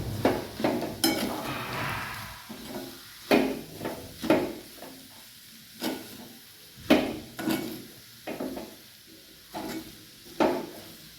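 Leftover rice khichdi being stirred with salt in a pan, a series of scraping, tapping spoon strokes against the pan at an uneven rhythm, close and clear with no talk.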